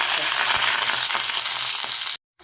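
Chopped ginger frying in hot oil for a garlic pickle, a loud steady close sizzle that holds without pause before cutting off abruptly.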